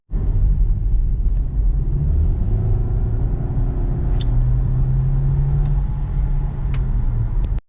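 Volkswagen Jetta accelerating in everyday driving, a loud, steady engine and road rumble heard from inside the car, with the tone rising slightly and holding for several seconds before cutting off abruptly.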